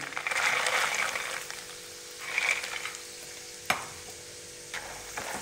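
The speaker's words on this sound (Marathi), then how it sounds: "सगळ्यात आधी त्यात शेंगदाणे आपण तळून घेऊया।" Peanuts fry in a kadhai of hot oil over a medium gas flame, giving a close, bright sizzle that swells and fades with stirring, with a sharp clink of the spoon on the pan.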